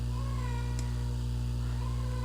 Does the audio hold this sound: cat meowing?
yes